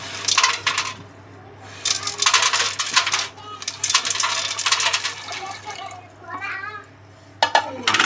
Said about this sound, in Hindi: अब मैं डाल रही हूँ इसमें राजमा।